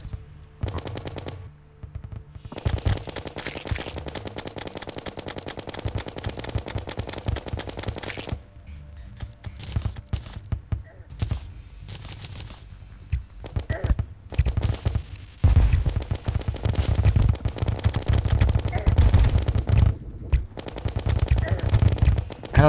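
Rapid laser gun fire in Terraria during a pirate invasion, loud bursts of repeated shots with short pauses, then heavier continuous firing toward the end.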